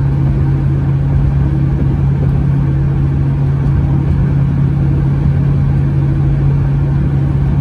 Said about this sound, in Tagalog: Ganyan yung andar na sakyan ko kasi pinalitan ko ng muffler.